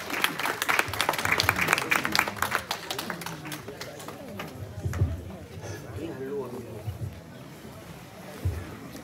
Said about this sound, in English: a clap of praise unto God